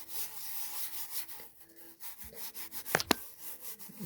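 A hand rubbing hard against the back of a PS5 DualSense controller, steady close scratchy friction strokes with a couple of sharper knocks near the end.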